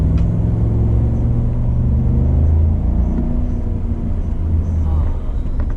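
A custom 2019 Chevy Silverado Z71 pickup revs and pulls hard through a corner, its engine a steady, loud, close rumble that swells slightly as it accelerates, with a voice talking over it.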